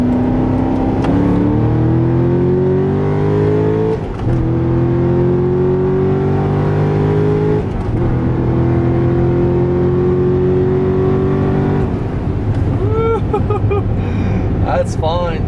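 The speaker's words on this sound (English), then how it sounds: "An all-motor Corvette." Naturally aspirated Chevrolet Corvette engine revving hard through the gears, a loud, rising drone climbing in pitch in three steady pulls with brief dips at each shift, then easing off near the end, heard from inside the car.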